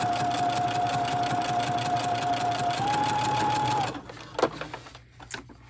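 A sewing machine runs steadily for about four seconds, top stitching a seam on a train case, its close mechanical whir holding an even pitch before it stops; a few soft handling clicks and rustles follow.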